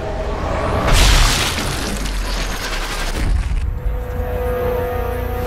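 A German vehicle blows up in the video game Sniper Elite 3. One loud, close boom rolls into a long crackling rumble, and a second, smaller blast follows about two seconds later.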